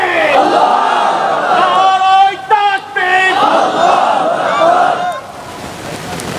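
A large crowd at a Bangladeshi religious gathering roars a takbir chant of Allahu Akbar in loud, ringing unison. The chant comes in repeated swelling calls that break off near the end.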